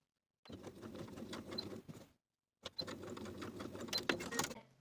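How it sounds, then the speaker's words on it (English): A sewing machine runs in two steady bursts of stitching through fabric along a 5/8 inch seam allowance, separated by a short pause, with no talking. "I'm going to sew with a 5/8 inch seam allowance"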